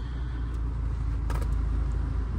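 A car fitted with a 2JZ-GE engine cruises along, heard from inside as a steady low engine rumble and road drone with a brief faint higher swish midway.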